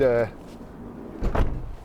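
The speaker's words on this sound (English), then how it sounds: "We've got security lock on the side loading door here, so we have to unlock it with a key." The side loading door of a 2013 Citroen Relay 2.2 HDi 35 L2H1 panel van with a security lock is unlocked and slid open. There is a brief voice at the start, then a close, loud rolling clunk.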